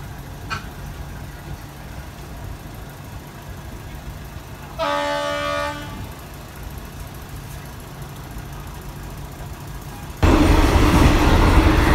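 Ordinary passenger train 251 from Thonburi to Prachuap Khiri Khan sounds one sustained horn blast at Salaya station, then a loud, steady rumble of wheels and engine takes over as it departs.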